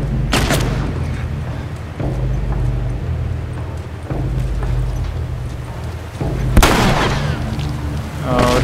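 Gunfire in The Last of Us Remastered, about five loud, sharp booming shots spaced a second or two apart over a low rumbling background, with no speech.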